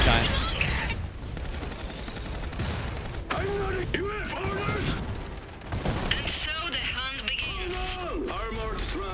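Rattling volleys from units firing in the strategy game Iron Harvest, with machine-gun bursts and booms layered through busy battle noise while people talk over the action.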